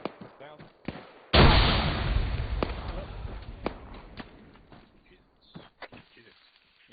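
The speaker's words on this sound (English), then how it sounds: "Grenade went off." A grenade blast in a military squad shooter erupts as one sharp, loud burst that decays over a couple of seconds, followed by scattered thuds and clicks under faint radio chatter.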